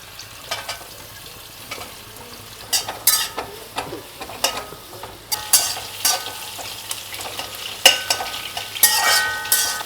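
Green chilies and onions frying in a pan for butter chicken, a close, steady sizzle broken by repeated scrapes and clinks of a spoon stirring against the pan.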